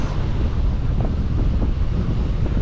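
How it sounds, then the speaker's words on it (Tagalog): Strong southwest monsoon wind roars steadily into the microphone over choppy open water, a dense rumbling buffet with no pauses. "Grabe yung hangin, malakas."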